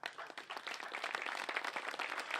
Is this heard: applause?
yes